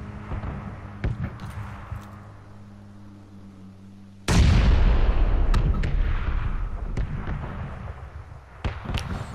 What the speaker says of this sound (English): No, the bomb's coming down.